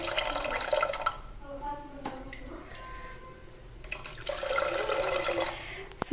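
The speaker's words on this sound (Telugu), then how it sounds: "ఆ గ్లాస్కి 4 గ్లాసులు నేను వాటర్ పోస్తున్నాను" Water is poured from a glass into a pot for cooking rice, in two splashing bursts of running liquid separated by a quieter gap with drips, and a voice talks between them.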